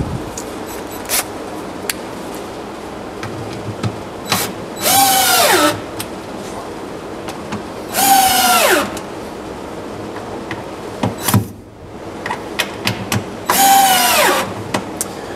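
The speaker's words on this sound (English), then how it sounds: "I'll flip it over and drive screws from underneath to pull it down tight." A power drill drives screws up from underneath into the bottom of a shop-built cabinet for a scroll saw, with several short whirring bursts that rise and fall in pitch, spaced by quieter handling noise.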